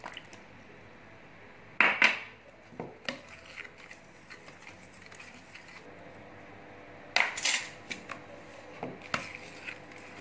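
A utensil mixes peach cake batter with flour and condensed milk in a bowl, giving a few sharp clinks against the bowl amid soft, quiet scraping.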